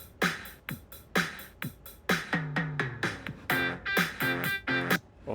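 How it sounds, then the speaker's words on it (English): A Beatbuddy MIDI drum track plays kick, snare and a run of toms, sharp electronic drum hits in a busy pattern with descending tom fills, moderately loud with no voices. "kick, snare, and then some tom work"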